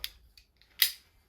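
A small utility knife slices into an oversized cardboard box on a bed, giving a few faint scratchy ticks and then one sharp, close ripping cut.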